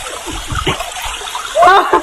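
Water splashes in bursts as a swimmer does the butterfly stroke in neck-deep water, with a gurgling surge near the end, close to the microphone.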